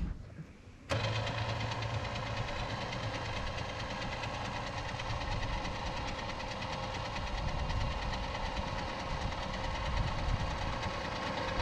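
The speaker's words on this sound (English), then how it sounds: "I'm going to use the switch on my dash to control my winch, to control the winch pulling me up." A FieryRed 5500 lb winch on a UTV pulls the vehicle uphill, its steady motor whine starting abruptly and running continuously at close range, with no talk.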